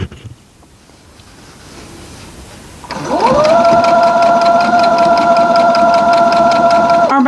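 After a few quiet seconds, a sewing machine starts up and runs at a steady high speed, a loud, even mechanical hum with rapid needle chatter, while a Spooky Box Boo fat-quarter quilt is sewn.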